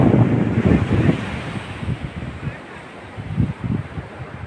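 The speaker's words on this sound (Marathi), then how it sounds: "वारा भरपूर सुटला इकडं" Strong wind gusting across the microphone on Velneshwar beach in Guhagar, Konkan, with heavy low buffeting in the first second and later bursts, alongside a soft wash of surf.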